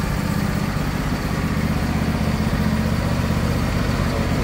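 A used riding lawn mower engine running close by with a steady, even idle drone and no cranking bursts or talk.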